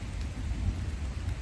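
Rain falling outdoors near a stream, a steady soft patter with low rumbling underneath, no voices.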